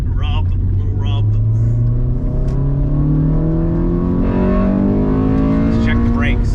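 A heavily modified Honda Civic revs and accelerates hard up close, its engine note climbing steadily in pitch as it pulls away under load.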